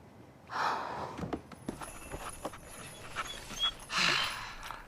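A dog pants in quick, breathy bursts, with snorts and soft gasps between them. It sounds close and fairly loud, and no one speaks over it.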